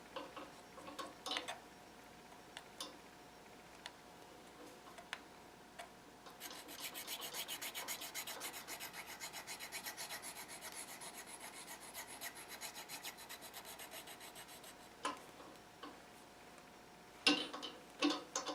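Hollower tool edge being honed on a Superfine Easy Lap hone, a quiet steady rubbing rasp that runs continuously through the middle, with scattered ticks and light taps before and after.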